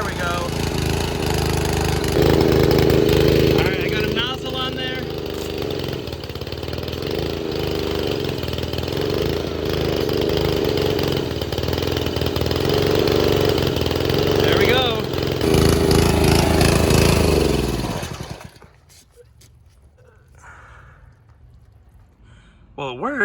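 A Karcher G2400 HH pressure washer engine runs steadily and loudly nearby, chugging for a long stretch before cutting out and leaving quiet.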